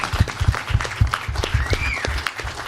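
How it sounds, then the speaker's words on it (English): Applause from an audience at a live radio show event: scattered, uneven hand claps at close to moderate range, with faint voices mixed in. "Yeah, we have applause too."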